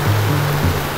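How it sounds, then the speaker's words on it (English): Water rushes steadily down a rocky hillside channel at a homestead, a loud continuous close-up roar of flow with no speech. "Water comes down that hillside, hits this, and it starts making its way down there."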